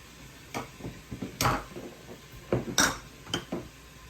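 A lid goes onto a pot of beef curry, giving a few sharp metallic clinks and taps spread across a few seconds, close and fairly quiet, with no talking.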